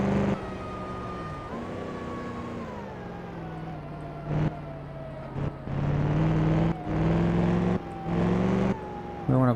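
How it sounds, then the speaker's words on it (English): A 1938 racing car in Assetto Corsa, its engine note holding a steady pitch, then sliding as it shifts, cutting in and out with bursts of throttle and short gaps between them, near and loud. "Let's listen to the engine. They sound so cool, these cars."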